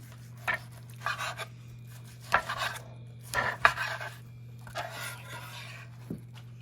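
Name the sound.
knife slicing grilled tomahawk steak against the grain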